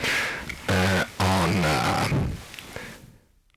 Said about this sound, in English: So this is distortion